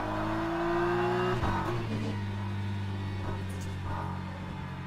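In a racing video game, a hypercar's engine drones loudly and close with steady tonal harmonics, its pitch dropping as it shifts and passes, then holding a lower hum that fades slightly at the end.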